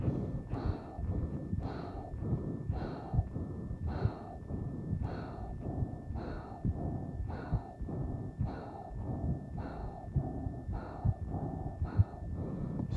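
Steady rhythmic breathing during an alternate nostril breathing exercise, with about a dozen soft, regular breaths spaced roughly a second apart, quiet and close with no talking.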